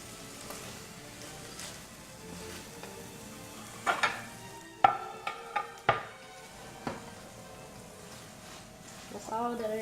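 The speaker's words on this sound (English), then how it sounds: "By now, I can turn off the stove and just stir them around" A pan of organic food is stirred on a just-switched-off stove, low sizzling underneath with a cluster of sharp utensil scrapes and clinks against the pan midway, quieter stirring before and after.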